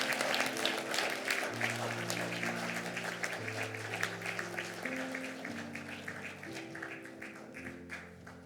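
Church congregation applauding at a Sunday elder retirement thanksgiving service, a full sustained round of clapping throughout while organ or keyboard chords play underneath.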